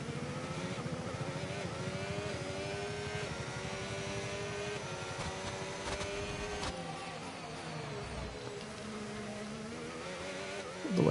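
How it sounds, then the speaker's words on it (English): Formula 1 car engine in a console racing game, a continuous high-pitched whine rising and falling through gear changes as the car steers through corners, loud and steady without speech, ending in a brief louder burst. "there's plenty of engine noises yet"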